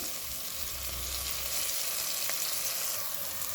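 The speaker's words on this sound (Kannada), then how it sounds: "ಸ್ವಲ್ಪ ಎಣ್ಣೆ ಇಲ್ಲದೆ ಫ್ರೈ ಆಗಲಿ." Ivy gourd stir-fry with pepper and asafoetida powder fries in a pan with little oil, giving a continuous, even sizzle that stays steady and close with no talking.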